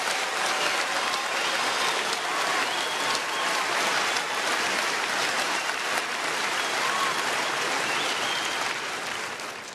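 A large audience at a presidential candidates' Thanksgiving family forum applauds in a dense, steady wash of clapping that holds for nearly ten seconds and fades slightly at the end.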